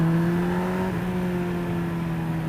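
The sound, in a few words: Suzuki Hayabusa motorcycle engine revving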